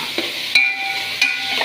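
Fish fries in a pan with a soft, steady sizzle, broken by a few sharp scraping or stirring knocks. No one speaks.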